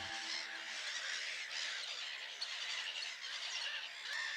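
A dense chorus of harsh, squawking calls from many birds calling at once without pause at Lake Neusiedl.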